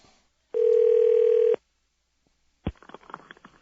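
A telephone dial tone sounds steadily for about a second, then after a pause a click and faint line noises follow as the call connects.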